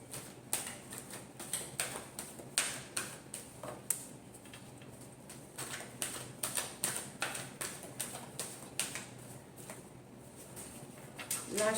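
Tarot cards being shuffled during a love reading, with a long run of quick, crisp riffling taps and flicks in a fairly close, quiet room and no talking.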